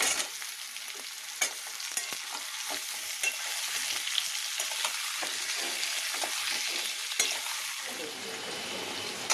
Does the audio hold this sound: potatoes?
yes